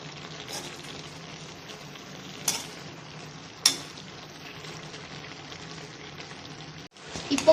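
Prawns with salt sauté in a pan for prawn masala, a soft, low sizzle with a few sharp clanks of a utensil against the metal and a louder scrape at the end.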